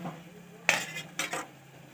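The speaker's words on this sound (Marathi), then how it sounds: "करटोलीची भाजी टाकून द्यायची नंतर चमच्याने मिक्स करून घ्यायची" Kartoli (spiny gourd) vegetable dropped into a pan on low gas and mixed with a spoon, heard as two short, close clatters of spoon against metal with a faint sizzle underneath.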